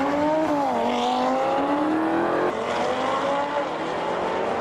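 An Audi and a Dodge Hellcat drag race down a quarter-mile strip, their engines roaring loudly and steadily with pitch climbing through gear changes.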